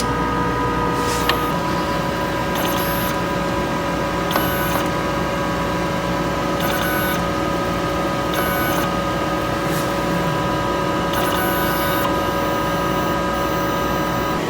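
A sublimation printer runs a head clean cycle, a steady mechanical hum with tonal whine overlaid by repeated short bursts of high hiss at regular intervals, close and continuous.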